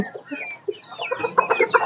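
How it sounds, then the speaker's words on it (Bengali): Small Malaysian Serema chickens, a very small bantam breed of laying hens about eight to nine months old, clucking close by on a farm in Ullapara, Sirajganj, in a steady run of short, overlapping calls that grow busier toward the end. "শেরমা মুরগি হচ্ছে বিশ্বের সবচেয়ে ছোট জাতের মুরগি"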